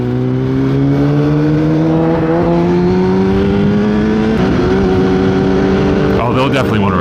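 Engine note of a modified Ford Focus accelerating hard on a two-lane highway, a steady rising drone that climbs in pitch over several seconds, heard amid wind and riding noise from a nearby motorcycle.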